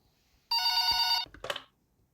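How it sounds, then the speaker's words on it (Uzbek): In a horror video game, a telephone gives one sharp electronic ring lasting under a second, followed by a brief clattering tone, with quiet surroundings before and after. "Hozir yana telefon bo'ladi."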